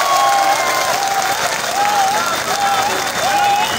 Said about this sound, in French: Est-ce qu'on peut applaudir pour le professeur Pascal Lissouba?